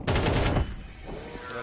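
Automatic gunfire in Counter-Strike 2 rattles out in a fast, loud, close burst lasting about half a second, then fades into lingering echo and softer background game sound.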